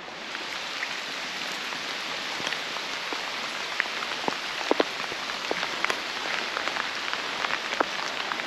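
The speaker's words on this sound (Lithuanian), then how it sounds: "Gan stipriai lyja." Heavy rain in Italy pours steadily, a dense hiss with scattered drops pattering sharply on a nearby surface, no voices.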